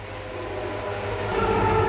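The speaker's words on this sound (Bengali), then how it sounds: "ট্রেন যাচ্ছে" A steady, rumbling train passes close by in an area flooded by heavy rain, a dense continuous roar that swells slightly louder toward the end, with no voices.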